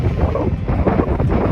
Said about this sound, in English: It is real cold and real windy.